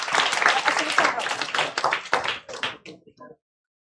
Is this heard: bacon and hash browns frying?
no